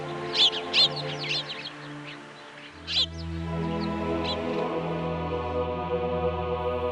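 Birds perched in the cracks of old church walls in Ani give off several sharp chirps and calls, a few clustered early and another burst near the middle, over a steady low background hum.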